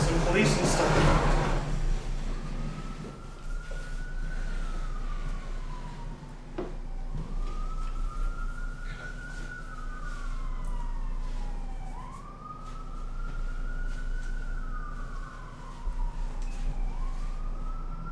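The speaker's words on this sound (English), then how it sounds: "Jeez, so many ambulances and police and stuff." Emergency sirens from ambulances and police wail outside in long rising and falling sweeps, moderately distant and continuous, under a rumbling indoor background with an occasional knock.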